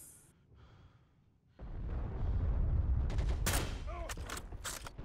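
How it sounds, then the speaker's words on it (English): Suppressing gunfire erupts in a Heroes & Generals battle beside an armored jeep: a loud rumbling roar starts suddenly and carries sharp bursts of rapid shots, with breathy voice sounds nearby. "Suppressing fire."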